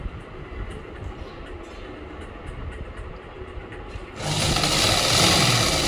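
Sewing machine stitching a salwar runs with a steady, dense mechanical whir, growing noticeably louder and faster partway through.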